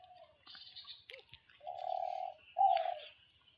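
Pet pigeons in a double cage coo in short, clear, fairly close phrases, two longer coos standing out near the end, with no one talking.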